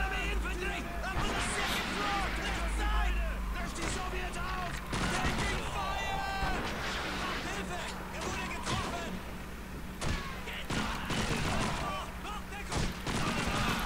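Enemy gunfire rattles through a first-person shooter game on a low-spec PC, with repeated bursts and single shots scattered across the stretch, sitting under the player's steady commentary.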